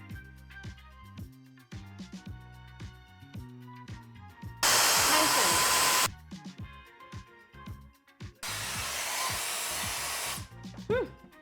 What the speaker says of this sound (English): I'm going to speed up the majority of the blow dry